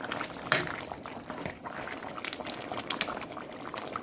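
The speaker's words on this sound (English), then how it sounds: "I now pour in my sweet potato and my carrot, and I'm just stir it in now" Chunks of sweet potato and carrot tumble into a cooking pot and get stirred through a wet mixture, with soft clunks, a bubbling liquid rustle and one sharper knock near the start.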